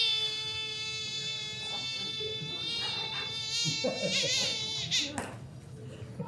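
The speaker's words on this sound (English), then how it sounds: "Inside this little squeaker is actually a trained Cajun mosquito." A squeaker toy is made to buzz like a mosquito during a comedy magic show in a Chicago lounge, giving a sustained wavering whine that rises and falls, with a voice audible underneath.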